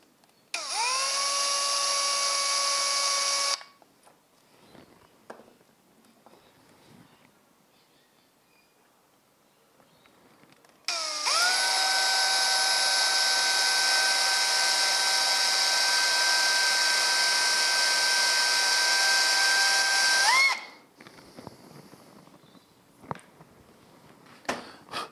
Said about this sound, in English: And then gently drill a tiny hole.